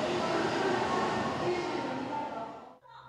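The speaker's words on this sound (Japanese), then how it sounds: "九州新幹線の一番列車が今新八代に向け鹿児島中央駅を出発しました。" Kyushu Shinkansen first train pulls out of Kagoshima-Chuo Station toward Shin-Yatsushiro in 2004, a steady loud rail rumble that drops away abruptly near the end.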